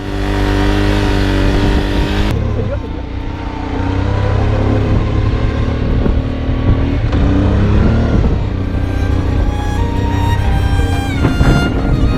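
A Honda Transalp motorcycle engine held at full throttle in third gear while struggling through sand dunes, a loud, steady, strained roar sustained throughout with slight shifts in pitch.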